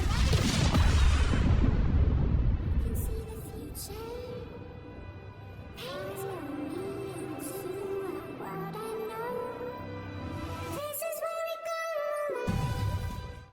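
A grenade explosion in an action film, a loud deep boom at the start that rolls into rumbling debris, then tense orchestral score and scattered blasts and hits, with a heavy crash near the end, all dense and cinematic.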